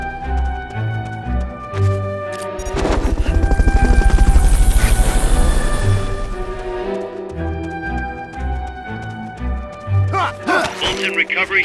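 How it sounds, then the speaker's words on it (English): Fulton recovery helicopter in the video game Metal Gear Solid Peace Walker, a loud swelling whoosh and rotor rumble building in the middle over a looping game score, with sharp effects near the end and a voice speaking. "Fulton recovery helicopter is complete."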